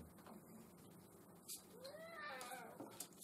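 A cat meows with a rising, drawn-out call in the middle, set against a steady background hum and a few soft clicks, with no talking.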